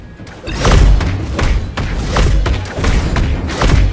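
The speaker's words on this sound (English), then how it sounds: "You destroy the turret!" Heavy thuds and booming impacts from a turret being destroyed in a mobile battle arena game, several loud hits in close succession with a dense, busy game mix behind them.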